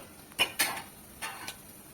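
Poha being stirred and mixed with chutney and salt in a pan, with a few clinks and scrapes of a spoon against the metal, irregular and close, with no voices.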